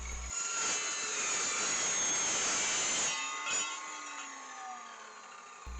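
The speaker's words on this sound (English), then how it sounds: "I used my Evolution saw to cut off some angle iron for the corner pieces of a raised garden bed." An Evolution saw cuts through steel angle iron for raised garden bed corner pieces, giving a loud, harsh grinding rasp for about three seconds that then eases into a fading metallic ring as the blade spins down.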